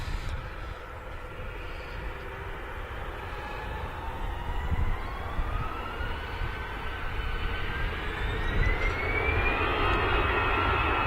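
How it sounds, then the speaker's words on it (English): An EasyJet Airbus A319 jet on approach at Manchester Airport, its engine whine rising steadily in pitch over a low rumble, growing gradually louder as it draws nearer. "there is a EasyJet A319 on approach"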